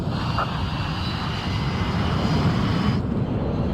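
Steady droning roar of a large propeller transport plane's engines in a video game, continuous and fairly loud, with a high whine that cuts off near the end.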